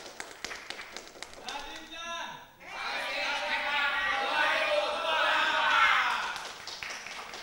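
A campaign team at a mayoral candidates' debate in Tasikmalaya starts a group cheer; scattered taps and claps give way to a loud swell of voices chanting and shouting together, building over several seconds.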